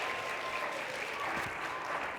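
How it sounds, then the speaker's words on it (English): Church congregation applauding after a sermon, a steady wash of clapping from a crowd indoors that holds evenly throughout, with no voice on top. "Give them a round of applause."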